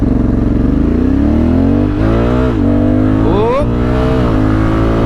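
Honda Africa Twin DCT motorcycle accelerating hard from a standstill to high speed, a loud close engine rising in pitch through several automatic upshifts with brief dips between gears, and a short exclamation from the rider.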